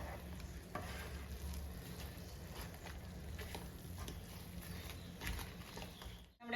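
A spoon stirs fried bread pieces into thick biryani masala gravy in a pan, a steady soft sizzle with repeated scraping strokes, close and fairly quiet.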